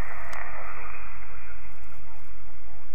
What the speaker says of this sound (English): Listen to the noise when I turn the dial.